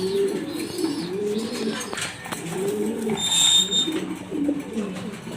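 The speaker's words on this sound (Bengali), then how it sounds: "খুবই সুন্দর কোয়ালিটি ফুল কবুতর" Fancy pigeons coo in low, repeated throaty phrases, close and moderately loud, with faint chirps and rustling in the background.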